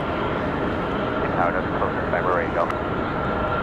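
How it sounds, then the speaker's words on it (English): Delta airliner jet at Raleigh-Durham airport at night, a steady broadband engine roar holding throughout at moderate distance, with a commentator talking over it. "this is Delta 1275 off to Tampa"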